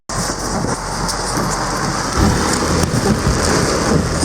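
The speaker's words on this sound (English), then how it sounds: "Holy buckets of rain, Batman." Heavy rain pours down in a thunderstorm on a Georgia backcountry road, a dense continuous hiss with low rumbling beneath that thickens and grows louder in the second half; nobody speaks.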